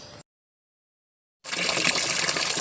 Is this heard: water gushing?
yes